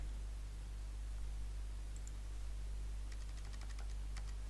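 Someone types on a computer keyboard while working in AutoCAD. A short run of faint, quick key clicks sits under a steady hum and hiss, with one stray click a little earlier.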